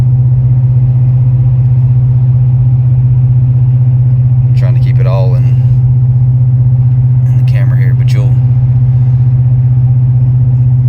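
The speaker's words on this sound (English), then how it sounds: "can listen to this engine if you can hear the engine right now" A GMC pickup's 6.6-litre engine drones steadily at a low pitch in 8th gear while towing a Big Horn fifth-wheel trailer, as someone talks over it briefly.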